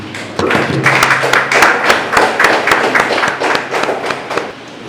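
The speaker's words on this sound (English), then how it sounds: "with a round of applause, let us welcome Dr. Mustafa Munir" Applause from an audience welcoming a speaker onto the stage at a lecture on Iran and imperialism, steady close clapping with a low thud near the start, no talk over it.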